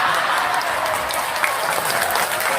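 An audience claps at a speech in Morowali, Indonesia, a dense and even roar of applause that holds steady for a few seconds with no clear voices.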